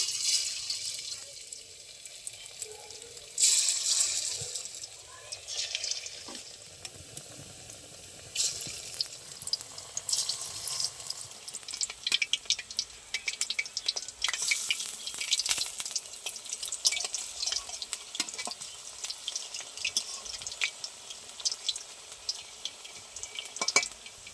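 Fritters (bora) fry in white cooking oil in a wok for a Bengali pakora recipe, giving a steady crackling sizzle with bursts of louder popping spatter, close up and with no talking.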